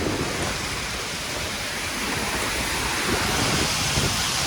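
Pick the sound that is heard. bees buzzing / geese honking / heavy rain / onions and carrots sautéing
heavy rain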